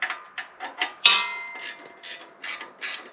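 A ratchet wrench clicks in short bursts while bolts are tightened on a Honda Trail 125 center rack, with crisp ratcheting pulses and a sharper metallic clack, close and otherwise quiet.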